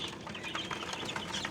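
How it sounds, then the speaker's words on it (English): Eleven newly bought baby chicks crowded in a bucket on a homestead, giving a continuous chorus of overlapping high peeps and chirps close by, with no talking. "Here we have all 11 chickens in this bucket."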